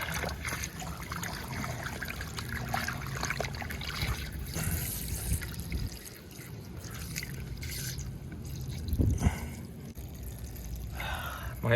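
Water spills from a detached pool drain hose during draining, a close, uneven trickle and splatter of running water that continues throughout, with a louder gush near the end.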